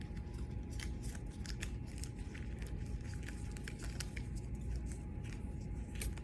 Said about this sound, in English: Let me just get my deck together.